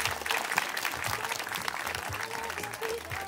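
An audience at the Sunday show of the Summer Salsa Fest 2025 applauds continuously, with a full, crowded wash of clapping over a faint low hum from the venue.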